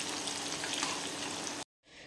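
Onions fry in a pan with a steady, close, dense sizzle that cuts off abruptly near the end.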